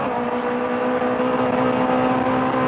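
Touring cars from the 1988 British Touring Car Championship, a BMW among a line of Ford Sierras, drone past under load with a steady, loud engine roar at constant pitch.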